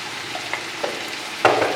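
Spiced meat with salt and black pepper frying and being stirred in a pot for Kabuli pulao, a soft sizzle with a few scraping stirs and a louder burst near the end, with no talking.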